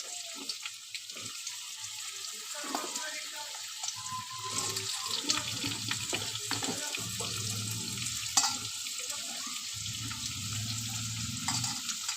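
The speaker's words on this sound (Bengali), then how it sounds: "এখন আমি আলুটা ভেজে নেব।" Potato pieces coated in salt and turmeric frying in a wok with cumin and bay leaf, a steady crackling sizzle with occasional stirring scrapes and fuller bursts of frying, close and continuous.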